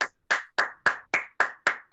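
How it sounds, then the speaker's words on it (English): A single person claps hands eight times in a slow, steady rhythm, each clap sharp and close and separated by short silences. "Someone's clapping."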